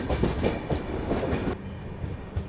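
The 11040 Maharashtra Express runs at a fair speed through Sevagram station on platform 4 without stopping. A rapid, rhythmic clickety-clack of wheels over rail joints rumbles close and steady.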